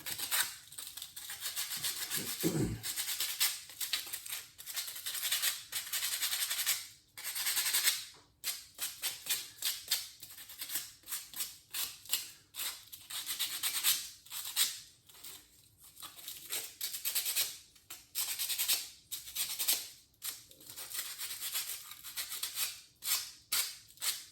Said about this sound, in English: we've completed the sanding finally